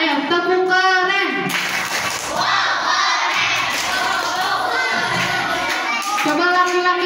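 Schoolchildren in an Indonesian classroom clap their hands together in a burst of rapid, crowded applause mixed with excited shouting, framed by a teacher's sung and spoken voice before and after.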